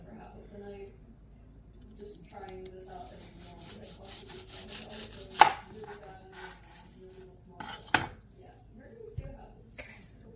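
Celery sticks being chopped on a board, with soft scraping and a few sharp knife strikes rising above murmured talk in a kitchen.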